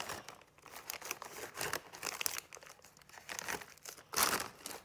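A strip of plastic bag is crunched by hand to stuff a paper squishy, producing close, irregular crinkling and crackling bursts with a sharper crunch near the end, and no talking.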